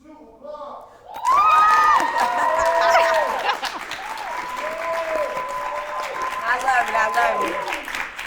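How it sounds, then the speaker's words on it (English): Studio audience on a talk-show set bursts into loud applause with cheers and whoops after a brief quiet start, clapping continuing steadily while a voice speaks over it. "5, 4, 3, 2, applause"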